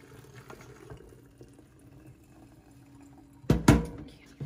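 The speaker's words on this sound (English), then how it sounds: "I'm going to drain the potato" Boiled potato water pours from a pot into a colander on a kitchen stove, a short loud gushing splash near the end after a few seconds of quiet room noise.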